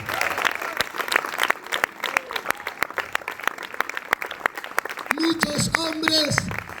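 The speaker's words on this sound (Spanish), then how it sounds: "Solo el aplauso a Dios." A church congregation claps during a sermon, sharp rhythmic claps in a steady beat, loud and close, with voices and a rising sung or spoken tone toward the end.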